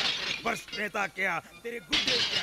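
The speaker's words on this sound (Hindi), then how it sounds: "बाहर कुछ कांच के टूटने की आवाज आ रही थी।" Glass shatters during a fight scene in a Hindi-dubbed action film, with crisp breaking bursts at the start and end largely buried under a man's loud, angry shouting.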